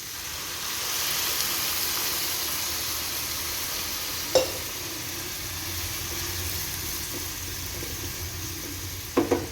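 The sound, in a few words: water added to sizzling beetroot pallya in pan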